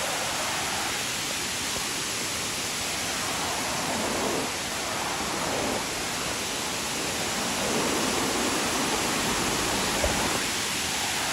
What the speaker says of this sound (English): Beautiful Dunn's River Falls.